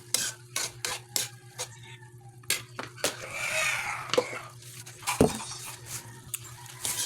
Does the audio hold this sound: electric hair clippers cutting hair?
no